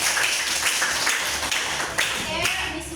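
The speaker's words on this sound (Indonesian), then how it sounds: "tepuk tangan buat kita semua" A group claps together in a classroom, a dense patter of hands that stays fairly steady and close, with a voice speaking faintly underneath.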